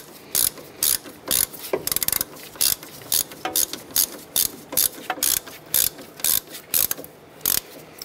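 A ratchet clicks in short, regular bursts while snugging a bolt on an ABS bracket during upper ball joint work on a 2008-2012 Honda Accord, each stroke a close, crisp run of pawl clicks separated by brief pauses.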